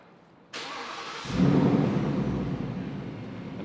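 A 700-horsepower Roush car engine cranks briefly and fires up, surging into a deep, loud rumble that settles into a strong idle, close and alone.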